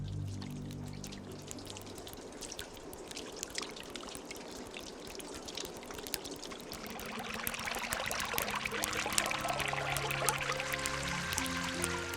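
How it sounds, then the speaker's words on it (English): Meltwater trickles and drips from melting ice in spring in Norway's fjord and fell country, a steady close-up wash of pouring, dribbling water with scattered drops that grows slightly louder and busier toward the end. "Droplet by droplet, the water frees itself from the grip of the ice."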